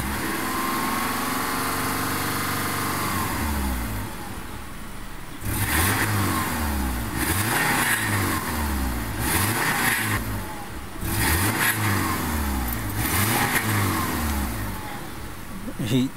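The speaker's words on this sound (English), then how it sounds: "I'm gonna play with the throttle a little bit." A Subaru Forester idles with its door open, then the throttle is blipped repeatedly. Several sharp rev swells rise and fall in a steady rhythm, close by and moderately loud.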